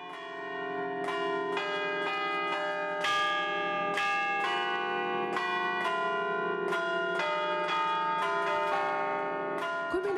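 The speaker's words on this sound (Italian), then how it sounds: "i partecipanti si sono radunati sul piazzale concedendo anche qualche rintocco di campana" Church bells ring out continuously over a town square in Italy, overlapping strikes layering into a rich, resonant peal that carries steadily throughout.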